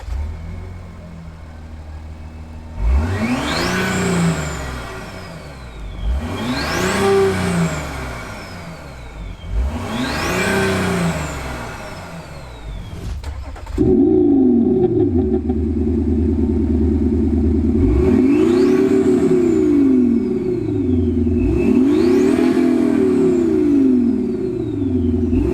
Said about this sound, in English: we're out in this crazy 3-litre by TDI A6